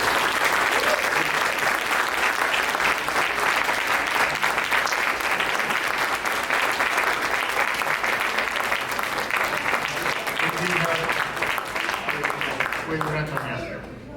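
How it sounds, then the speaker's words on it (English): Loud, sustained audience applause for mayoral candidates at a Buffalo community forum, dense steady clapping that fills the room for the whole stretch and only begins to thin at the very end, with some voices and cheers mixed in. "Let's show the candidates the appreciation for this participation with a loud round of"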